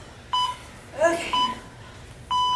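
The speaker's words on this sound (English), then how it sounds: "I'm going to turn off the timer" Electronic workout timer beeping during a cardio class: three sharp, steady tones, the last one longer, with a short burst of nearby voices between the first two.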